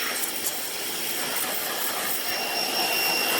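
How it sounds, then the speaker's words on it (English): A Portland pressure washer blasts mud off the wheels of a 2013 BMW X5 E70, making a loud, continuous, close hissing spray that holds steady throughout. "I could not get all the mud out with a regular garden hose. Just didn't have the pressure. But with this, it's effortless."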